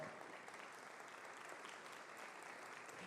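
Steady, fairly faint applause from the audience in a municipal council chamber in Porto Alegre during an honour ceremony, an even wash of clapping throughout with no speech over it.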